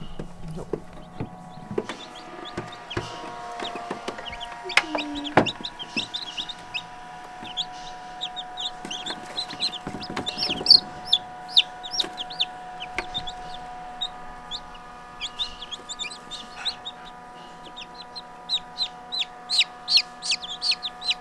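A hen that has taken in incubator-hatched chicks clucks in short, scattered bursts, with high peeping from the chicks and a steady background hum. The sounds are close and fairly quiet, and nobody speaks.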